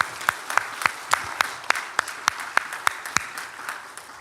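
A church congregation claps in a steady, regular rhythm during an Easter service, with sharp evenly spaced beats standing out over a softer bed of scattered clapping.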